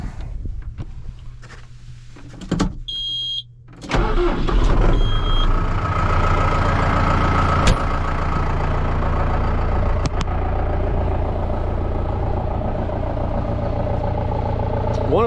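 A few beeps sound, then a large diesel tractor engine cranks, starts with a roar, and settles into a loud, steady idle.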